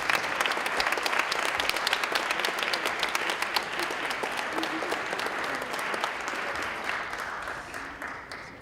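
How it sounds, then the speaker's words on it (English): Sustained applause from a conference audience honouring five award winners at a peace technology awards ceremony, a dense, steady clatter of many hands that fades slightly toward the end. "Please join me in giving the 5 winners a really big round of applause."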